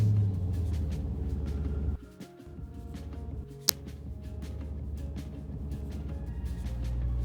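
A Dodge Challenger Widebody's engine rumbles low and steady from inside the cabin while driving, dipping briefly around a gear change with a sharp click, then settling back into a constant drone.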